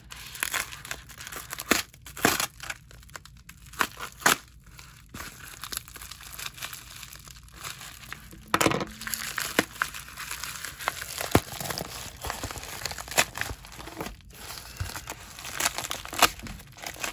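Wrapping and plastic sleeves of a trading card mail package crinkle and tear as they are opened by hand, close and fairly quiet, with irregular rustles and sharper snaps throughout.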